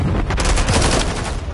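A decoy grenade in Call of Duty throwing out rapid video game gunfire, a dense burst of loud, close shots in quick succession that fills the whole moment.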